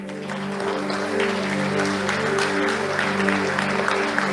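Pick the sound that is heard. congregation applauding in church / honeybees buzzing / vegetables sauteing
congregation applauding in church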